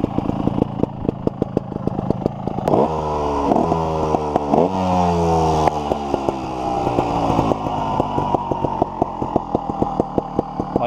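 A 2013 Sherco 3.0 ST trials motorcycle is ridden, its engine putting out a rapid, throbbing putter with a couple of revving surges that climb and fall, close and loud throughout.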